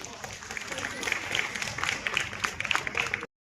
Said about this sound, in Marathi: आजच्या या मुलाखतीसाठी सगळ्यांसाठी एकदा जोरदार टाळ्या होऊन जाऊ देत